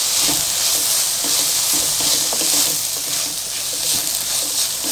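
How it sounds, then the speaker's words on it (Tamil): Chopped tomatoes and chillies sizzle steadily in a hot pan as they are stirred and sautéed for egg podimas, a continuous close frying hiss with faint scraping of the spoon, no voices. "இப்போ வந்து நம்ம சின்னதாக கட் பண்ணி வச்சுருக்க தக்காளியை இதில் ஆட் பண்ணிடலாம். 3ஐயும் போட்டு நல்லா கிண்டி விட்டு வதக்குங்க"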